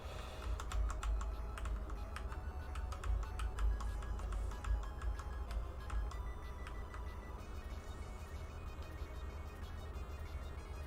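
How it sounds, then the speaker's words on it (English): Keys on a computer keyboard are pressed in quick irregular bursts while a Commodore 64 game is played, faint clicking over a steady low hum and game sound. "It's terrible to play on a keyboard."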